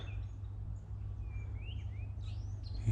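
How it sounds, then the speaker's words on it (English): Faint, scattered bird chirps and short whistles in the distance over a low steady hum, in a South African food forest garden in early spring. "You can hear the birds."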